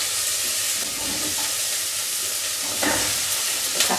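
Carrots and potatoes sizzling in a pan for tomato soup, a dense steady frying hiss close by, with a brief stirring scrape near the end.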